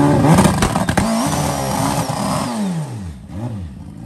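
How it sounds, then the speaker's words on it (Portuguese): A drag motorcycle does a burnout at the Velopark drag strip, its engine roaring loud and close with rising and falling revs, then sweeping pitch changes as the throttle is worked. "Aí, pessoal, deu o burnout agora."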